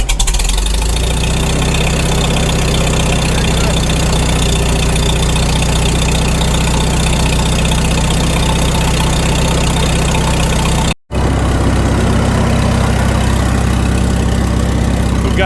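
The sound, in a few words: old tractor engine starting and idling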